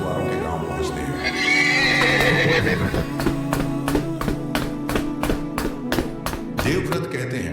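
A horse ridden to a fishermen's village neighs over a busy background, then hooves clip-clop in a steady, loud, regular rhythm through the second half.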